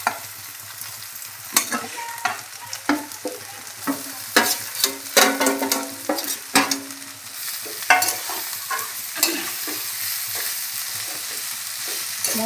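Mustard greens stir-fried in a pan with ground green chilli and garlic: a steady close sizzle broken by frequent scraping stirs and clanks, with no talking.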